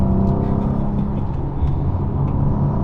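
Ford Explorer ST with a 500 hp engine cornering, its loud, close exhaust drone and rumble holding steady with slight shifts in pitch, no talk over it.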